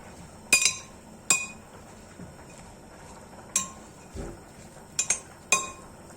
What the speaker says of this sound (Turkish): Şimdi karıştırıyoruz arkadaşlar.